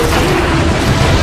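A grenade blast in a Transformers video game, a single loud, close, sustained booming explosion with heavy low rumble and broadband roar filling the whole moment.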